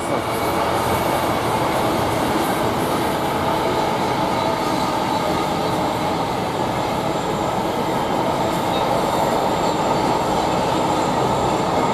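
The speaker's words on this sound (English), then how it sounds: "we've got another train coming through here, which is a freight train" A freight train roars past close by through Didcot Parkway station, a steady loud rumble with rattling wheels and clatter lasting throughout, with no voices.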